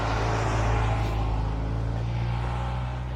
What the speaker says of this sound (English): how loud that mail truck is in the background of the audio